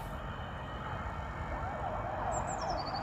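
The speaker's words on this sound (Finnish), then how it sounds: "Paloautokin menee tuo." A fire engine's wailing siren sweeps up and down as the truck passes, heard from a distance over steady street and traffic noise, holding through the whole stretch.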